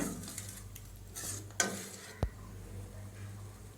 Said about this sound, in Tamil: ஒரு நிமிஷம் பால் ஊற்றி கிளறி விடுங்க.